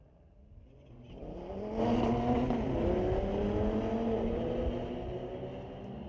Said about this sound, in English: BMW M2, racing against an Audi out of Chilliwack